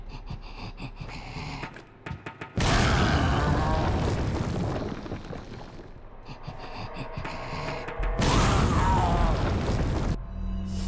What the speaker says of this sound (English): I'm gonna throw a grenade at him